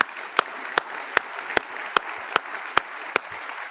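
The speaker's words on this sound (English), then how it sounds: "Give yourselves a round of applause." An audience at an inauguration ceremony claps steadily, a dense moderate patter of many hands with sharp rhythmic accents from nearby clappers punctuating it about every half second.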